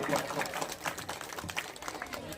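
An audience at a talk in India applauds as a speaker is introduced, with a moderate, uneven patter of clapping and some voices mixed in.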